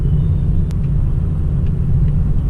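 A car being driven produces a steady low engine rumble and road drone from inside the cabin, with no speech over it.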